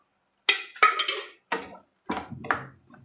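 Tomato pickle being stirred in oil, with a few separate clinks and scrapes of a metal spoon against a pot, spaced out and close, in otherwise quiet surroundings.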